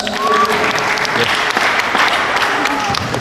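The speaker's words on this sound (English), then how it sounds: "Go ahead and clap for him, too." A crowd in a school sports setting claps steadily, a dense and fairly loud wash of applause with some voices and cheers mixed underneath.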